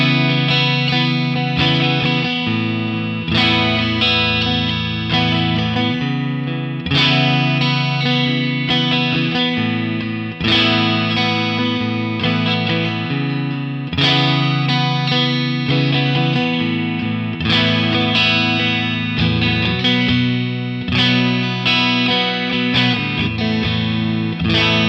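A PRS SE John Mayer Silver Sky electric guitar with maple fretboard, played through effects with distortion and chorus, strums loud sustained chords in a steady rhythm throughout, with no talking.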